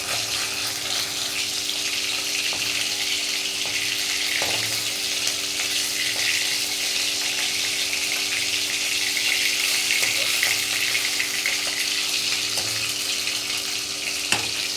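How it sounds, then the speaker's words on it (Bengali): Fish sizzles steadily in oil in a kadai on a gas stove, a continuous close crackling hiss with a few faint clicks and no talking. "মাছটা প্রায় ভাজা হয়ে এসছে।"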